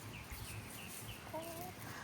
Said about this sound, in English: so here's the chickens